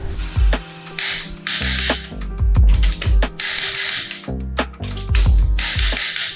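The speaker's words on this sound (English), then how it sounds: "Just got to torque the wheels" Ratcheting clicks from a torque wrench tightening wheel lug nuts on a first-generation Toyota Sequoia, in repeated short bursts with pauses between, close and fairly loud.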